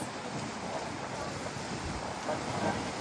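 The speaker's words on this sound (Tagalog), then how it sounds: "sobrang lakas talaga ng hampas ng mga alon kasabay ng malakas na hangin" Strong waves slap the shore of Taal Lake under a strong gusting wind, giving a continuous, fairly loud rush of surf and wind noise.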